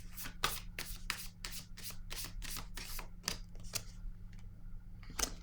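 Tarot cards being shuffled and drawn: a quick series of crisp riffling flicks and snaps, close and fairly quiet, with a few scattered card sounds afterward.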